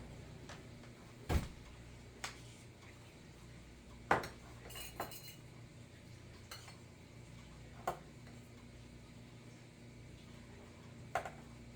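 A metal spoon scoops cocoa powder out of a container for a keto chocolate cake, making a few sparse, light clinks and taps in an otherwise quiet kitchen.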